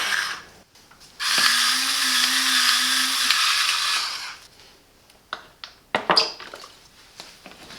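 A Silvercrest SSMD 1000 digital hand blender mixes salt, pepper and olive oil, its motor whirring loud and steady for about three seconds before stopping, followed by a few clatters and knocks.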